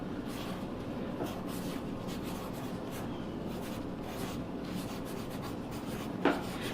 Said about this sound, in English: Just kind of going and writing over.